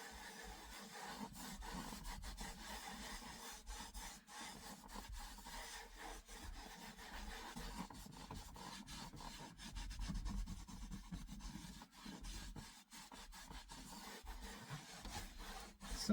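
A microfiber cloth rubs conditioner into a leather seat of a 2007 Saab 9-3 Anniversary Edition, a soft continuous scrubbing and swishing in back-and-forth strokes, close but quiet, with no talking.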